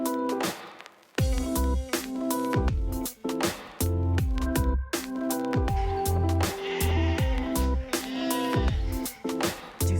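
A flock of sheep bleats repeatedly on a mountain trek, many animals calling near and far in overlapping, irregular cries with brief gaps.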